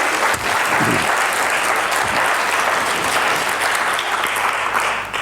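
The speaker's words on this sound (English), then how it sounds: "So big round of applause for the team." Sustained applause for the team fills a large hall at an NHS South West London annual general meeting, steady and loud throughout with no speech over it.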